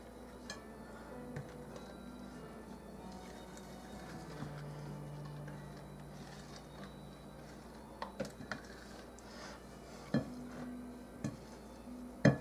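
A spatula scrapes around a mixing bowl of gingerbread batter. The scraping is soft and fairly faint, with a few sharper clinks near the end and no talk.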